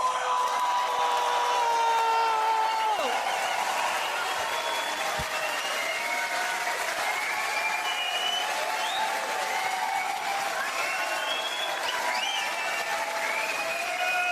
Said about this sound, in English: let's make even more noise than that and welcome out the one, the only, your own Glasgow, Frankie Boyle!